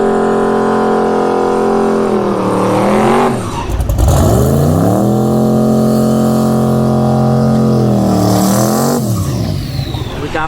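A twin-76mm-turbo 6.0L LS Turbo WS6 Trans Am Firebird launches down a quarter-mile drag strip beside a Tesla Plaid, a loud, close engine note rising and sweeping through gear changes with turbo whine.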